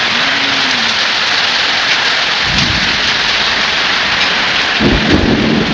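Heavy rain pouring steadily during a storm in Bangladesh, with low rumbles of thunder breaking through twice over the constant loud downpour.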